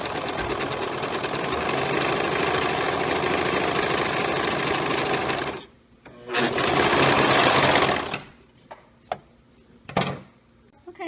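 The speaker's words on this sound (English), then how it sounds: "we have now finished sewing around the entire tail" A sewing machine runs in long continuous bursts while stitching around a fabric mermaid tail, stops, then runs again briefly, followed by a few short clicks and pauses.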